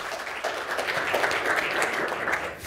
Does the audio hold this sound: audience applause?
yes